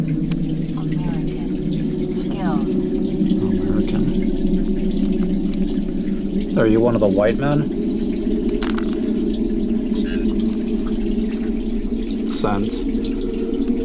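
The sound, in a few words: running water underneath a basement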